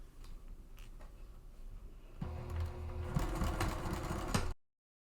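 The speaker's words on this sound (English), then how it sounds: "I just want to put this up on the machine and stitch down both sides" A sewing machine stitches down both sides of a zipper on a tote bag, faint at first, then running louder and faster with a rapid mechanical rattle before stopping abruptly.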